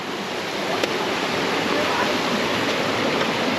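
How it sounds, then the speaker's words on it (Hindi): Waterfall and river water rushing along the Kedarnath trek in the mountains, a dense, steady roar of falling and flowing water filling the scene without pause. "झरनों में लेके आ गए तुम, नदियों में लेके आ गए"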